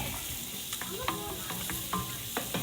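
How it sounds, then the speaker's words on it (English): Rice boiling in a pot for dirty rice, a steady close bubbling and sizzling texture with scattered small pops and clicks, no talk over it. "we are boiling away in this pot"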